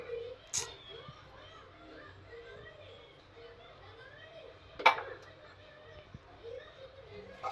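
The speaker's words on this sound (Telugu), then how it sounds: "ఏం చేస్తున్నావు గిన్నెలు తోముతున్నావా" Faint clinks of dishes and pots sound at a distance as dishes are scrubbed, a couple of sharper knocks standing out over a quiet background with soft voices.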